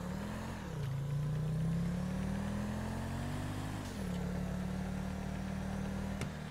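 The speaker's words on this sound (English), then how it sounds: "So right now I'm going to drive to Jail's apartment." A car engine drones steadily in Grand Theft Auto V Online, pitch rising and dipping slightly as the vehicle drives along, with a smooth continuous hum and no talk.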